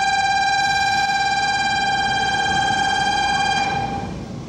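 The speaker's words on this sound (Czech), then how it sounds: "Symbolem japonské moderní přesnosti a preciznosti je Shinkansen." A Shinkansen high-speed train in Japan passes close by, a loud sustained tonal whine or horn riding over a broad rushing roar for about four seconds before fading slightly at the end.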